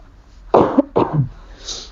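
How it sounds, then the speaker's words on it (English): Two sharp, close coughs in quick succession, followed by a faint breathy sound. "I got a cough."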